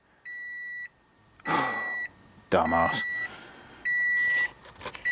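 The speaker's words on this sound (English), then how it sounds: "now you can hear it beeping away annoyingly and you can see it all lit up" Electronic toll collection unit in a Toyota GT86 beeps with the ignition on, three long steady tones with gaps, close inside the car, interrupted by bursts of talking.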